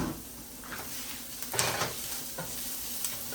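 Vegetables sizzle in olive oil in a pan while being stirred, a steady frying hiss with soft scraping strokes and a few louder clatters as the food is mixed.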